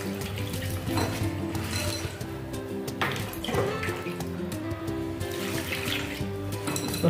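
Poi greens (saag) rinsed under a running kitchen tap in a sink, a steady close rush of water with occasional splashes and clinks of the leaves and container.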